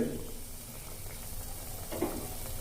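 Green pea sandwiches fry in a pan with a faint, steady sizzle and light bubbling. The frying stays soft and close, with a brief louder crackle near the end.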